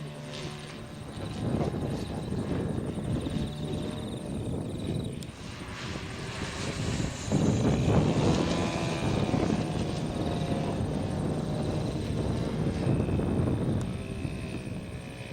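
A 40% scale Jungmeister aerobatic model biplane flies overhead outdoors, its engine droning continuously and swelling in loudness as it passes, steady and moderately near with wind in the background.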